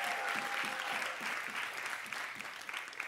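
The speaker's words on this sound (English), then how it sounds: "Will you give him one more round of applause?" A round of applause from a worship-night congregation, sustained dense clapping heard from within the crowd at moderate loudness, with a faint tone running beneath it early on.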